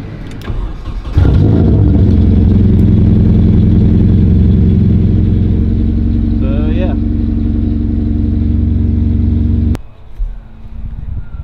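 A car engine cranks and catches during a test after its fuse box and wiring harness were relocated, then runs at a steady, loud idle for about eight seconds before cutting off abruptly. A brief voice cuts in partway through.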